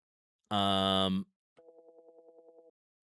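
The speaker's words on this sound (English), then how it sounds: "the conversation has different tones for the player and the NPC" Dialogue tones from a GameMaker RPG: one short bright synthetic beep burst, then after a brief gap a softer, lower rapid string of blips, clean and isolated.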